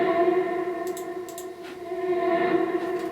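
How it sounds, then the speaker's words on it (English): A sustained reversed tonal swell with a hollow, echoing reverb tail, brief airy bursts flickering through it, steady and fairly loud. "These are actually just tonal effects, which I just took a small part of. Reversed them, like so"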